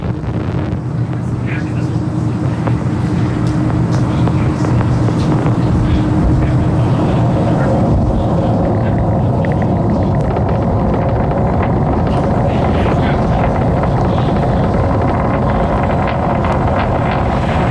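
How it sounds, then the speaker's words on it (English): SpaceX Falcon 9 rocket lifting off from Launch Complex 39A at Kennedy Space Center carrying Starlink satellites, a loud, continuous low rumbling roar with wind buffeting, steady for the whole stretch with faint voices underneath. "Falcon 9 has successfully lifted off from Launch Complex 39A at Kennedy Space Center"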